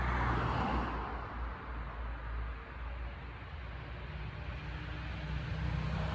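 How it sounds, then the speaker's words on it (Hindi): Road traffic runs past at night in a forest area where spotted deer call, a steady broadband rumble and hiss of passing vehicles holding fairly even throughout with no clear individual pass-bys. "अभी देखिए गाड़ियाँ चल रही है ना, तो ट्रैफिक की वजह से आवाज़ क्लियर नहीं हो रही"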